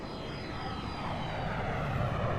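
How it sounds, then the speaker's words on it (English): A jet aircraft at an air show roars overhead with afterburners, a steady, broad, loud rushing thunder that swells slightly, with no talking. "Afterburners kicking on"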